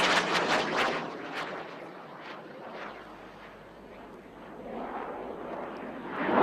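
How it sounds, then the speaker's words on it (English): HAL HJT-36 Hindustan Jet Trainer passing at the Aero India air show, a jet roar swelling, fading and building again, with sharp crackling bursts mixed in. "Emerging through the rear, here comes the Hindustan Jet Trainer 36."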